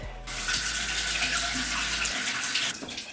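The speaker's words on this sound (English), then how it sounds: "I'm gonna go rinse my hands" Water runs steadily from a bathroom sink tap as hands are rinsed, a close, loud, continuous rush that carries on for most of the moment before easing near the end, with no talking.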